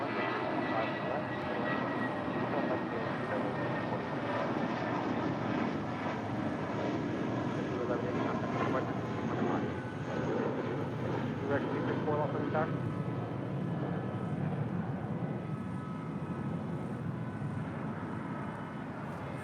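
An Aloha Air Cargo Boeing 767 arriving on runway 25 left at LAX, its jet engines giving a steady, sustained roar at moderate distance throughout.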